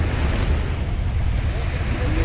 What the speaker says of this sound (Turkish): Askeri bir gemi geçiyor şu an.